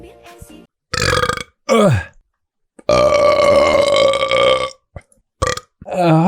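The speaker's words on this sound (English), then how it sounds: "Burps." Several loud, drawn-out human burps come in a row, one long resonant belch in the middle flanked by shorter ones, with brief silent gaps between them.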